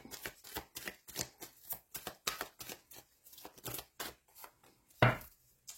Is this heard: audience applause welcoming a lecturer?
no